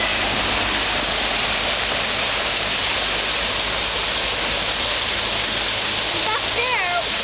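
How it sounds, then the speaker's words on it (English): A small waterfall roars steadily and loudly throughout, with a faint bird chirping briefly near the end. "And then you can see a very small waterfall."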